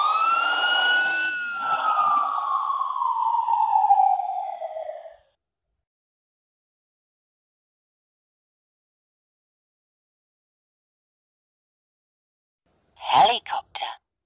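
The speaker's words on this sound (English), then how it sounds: "Fire engine." A single rising-and-falling fire engine siren wail, loud and close, fading out after a few seconds, followed by silence and a brief burst of sound at the end.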